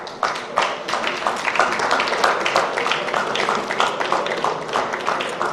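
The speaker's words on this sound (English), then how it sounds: "Please, a big round of applause" An audience applauds steadily through an award presentation at a ceremony, with dense, even clapping that keeps a constant level and a faint voice now and then beneath it.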